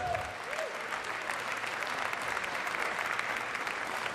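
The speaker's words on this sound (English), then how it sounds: "So clap for yourselves." An audience at a video game awards show applauds, a steady wash of clapping from a large crowd heard at moderate distance, continuous for about four seconds after a brief voice.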